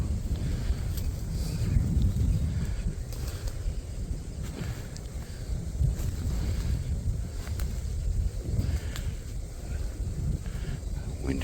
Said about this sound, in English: Wind is crazy.